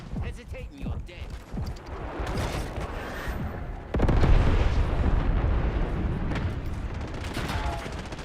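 Napalm strike explosions in a multiplayer shooter match, rumbling blasts that swell into a loud sustained roar partway through, mixed with scattered gunfire and a voice talking early on.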